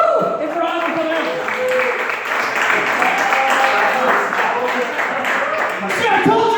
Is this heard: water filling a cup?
no